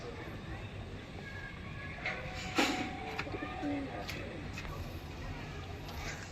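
Pigeons coo faintly and steadily under a broad background hiss, with a few sharp clicks and brief higher calls scattered through.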